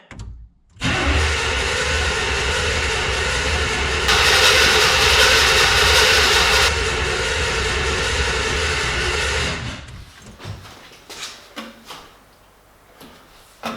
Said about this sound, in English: there are no fuel in the system, so probably it'll take a lot of cranking